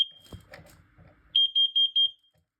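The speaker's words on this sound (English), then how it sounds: "I want the gas and carbon monoxide alarm." A Kidde 10-year gas and carbon monoxide alarm under test lets out a loud, piercing chirp, then four sharp, evenly spaced beeps after a few soft handling noises.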